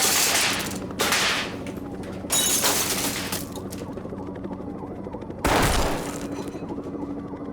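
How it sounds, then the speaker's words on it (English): Gunfire during a dramatized Columbine High School shooting in the library: several loud, close bursts of shots with shattering crashes, separated by quieter ringing pauses. "He's shooting in the library right now."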